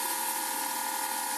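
An electric pressure washer driven by a Northern power tool with a surface cleaner on concrete, giving a steady, loud whine with an even hiss of spray and no pauses.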